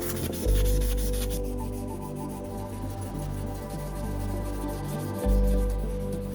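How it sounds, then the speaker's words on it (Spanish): Steady rubbing and scraping of fine sandpaper across a badly burnt surface, continuous strokes at close range with a couple of heavier passes. "vamos a pulirla con una lija muy fina"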